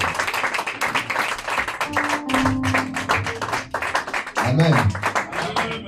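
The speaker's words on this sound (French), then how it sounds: "On acclame très fort." Loud applause and cheering from a church congregation, dense and continuous, with voices calling out over it and brief sung or shouted tones rising through the clapping.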